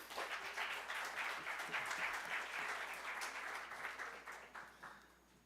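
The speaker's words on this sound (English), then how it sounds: "one round of applause for Mirko." An audience at a postdoc and bioeconomy event gives a round of applause for Mirko, steady fairly distant clapping that stays even for several seconds before tapering slightly.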